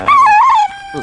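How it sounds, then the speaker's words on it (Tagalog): A dog gives a single high, wavering whine lasting about half a second, near and clear, before a quiet pause and a faint voice. "mga aso ito."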